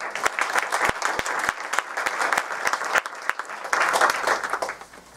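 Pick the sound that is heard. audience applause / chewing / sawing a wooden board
audience applause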